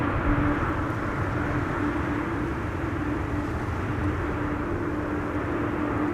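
Airliner arriving on Schiphol's Buitenveldertbaan runway 27, a steady, loud broadband roar with a faint sustained tone, continuous throughout with no talking.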